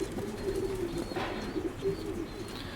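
Racing pigeons cooing in a loft, soft repeated low coos close by over a quiet background, with no talk.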